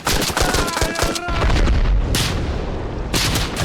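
Loud gunfire in the Arma Reforger video game: a rapid cluster of sharp shots followed by heavy booming reports and a few more cracks, close and dominant.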